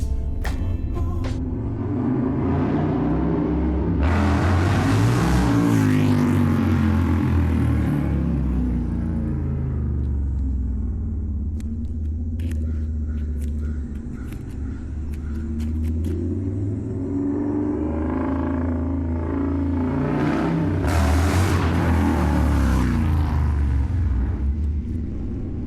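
A new Scout fitted with a new exhaust idles in a deep, loud rumble and is revved hard twice, each rev swelling into a throaty roar before settling back to idle.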